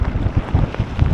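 A strong wind buffets the microphone with loud, continuous roaring gusts on a very wet day outdoors, and no one speaks.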